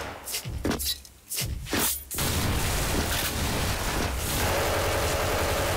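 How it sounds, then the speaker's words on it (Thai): A grenade goes off in the shooter game Special Force amid a run of booming blasts and gunfire, followed by a sustained, loud roar of explosion noise that holds steady to the end. "ปาระเบิดไปดีกว่า"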